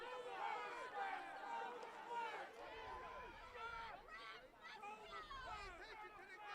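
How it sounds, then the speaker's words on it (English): Crowd chatter and murmuring fill the stands at a Lynchburg vs Stevens NCAA men's lacrosse tournament game, a steady, busy babble of many voices with occasional raised calls. "You might be able to hear some of the crowd from Lynchburg"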